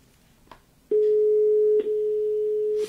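A telephone call tone sounds as a steady, loud electronic beep that starts after a short pause, breaks once briefly, then resumes and holds.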